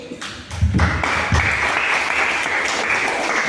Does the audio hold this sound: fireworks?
no